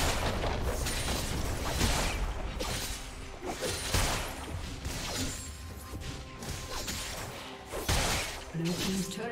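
Turret destroyed in League of Legends, heavy crashing booms and bursts layered over continuous game effects and music, loud and dense throughout, with an announcer voice.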